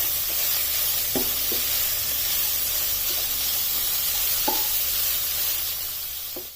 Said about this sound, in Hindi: इसी तरह तेज फ्लेम पर ही इसे कुक करना है।